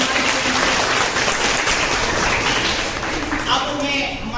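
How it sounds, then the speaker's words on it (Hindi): An audience claps at a World Heart Day event at a school or college in Banmankhi, Purnea, a dense, steady wash of applause with voices mixed in throughout. "एक बार जोरदार ताली।"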